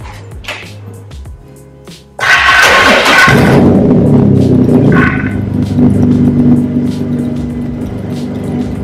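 Lotus Evora engine, from a rebuilt salvage car, cranking with a few clicks and thumps before it fires up into a loud, close, rumbling idle that settles and keeps running; no talking.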